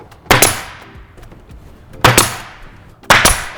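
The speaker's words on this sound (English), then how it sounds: "We grab our brad nailer again 3/4 inch with our brads." A brad nailer fires 3/4 inch brads into a Shaker-style wall diagonal corner cabinet box, three loud sharp pneumatic shots spaced apart with ringing decay, close by and alone.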